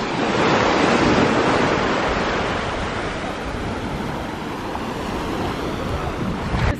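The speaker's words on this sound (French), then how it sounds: "il y a un peu de vent" Strong wind buffets the microphone on a Cuban beach, a continuous loud roar with surf rushing underneath, steady throughout with no speech.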